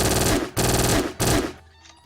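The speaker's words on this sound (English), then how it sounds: "So our Uzi works." An Uzi submachine gun fires in the Game Guru video game, three loud, dense bursts of rapid automatic fire, close and harsh, the last one trailing off into a brief echo.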